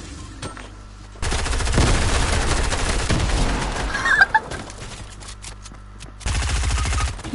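Submachine gun fire in a video game comes in two loud, dense rapid-fire bursts, a long one early on and a shorter one near the end, separated by a quieter stretch.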